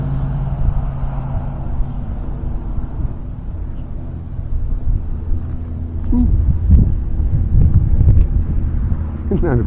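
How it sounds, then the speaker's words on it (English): Strong wind buffeting the microphone while a Ranger 600 RC stunt plane flies outdoors, a loud low rumbling roar that grows heavier toward the end, with someone talking over it. "Getting kind of windy."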